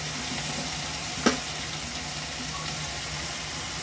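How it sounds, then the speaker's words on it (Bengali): Garlic and chopped vegetables such as bell pepper and tomato fry in olive oil in a wok, a steady close hiss of sizzling with one brief clank of a utensil partway through and no voices. "একটু অলিভ অয়েল, ওতেই দিয়ে দেবো রসুন, আর সঙ্গে সঙ্গে দিয়ে দেবো একটু সবজিগুলো"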